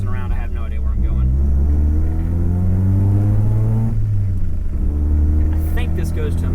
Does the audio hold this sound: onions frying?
no